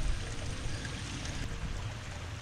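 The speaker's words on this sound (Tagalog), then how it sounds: "lagyan po natin ng kaunting tubig para dumami-dami po ang sabaw" A little water poured into a pot of beef bulalo soup, a continuous low splashing, trickling wash heard close and fairly loud for a couple of seconds.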